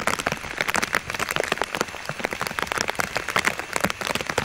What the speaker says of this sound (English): I thought it'd be interesting just to let you hear the sounds of pouring rain